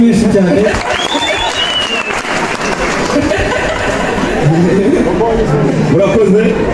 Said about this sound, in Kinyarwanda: umukomera amashyi menshi cyane